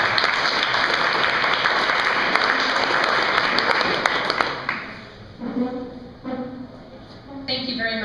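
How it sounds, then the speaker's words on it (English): Audience at a birth activists event gives a speaker a round of applause, dense clapping that fades after about five seconds as a voice begins talking. "Let's give her a round of applause."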